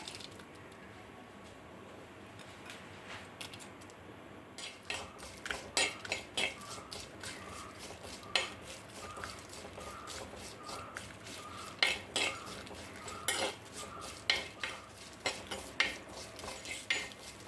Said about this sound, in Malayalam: ആദ്യം തന്നെ നമുക്ക് ചെമ്മീനൊന്ന് ഡ്രൈ റോസ്റ്റ് ചെയ്തെടുക്കാം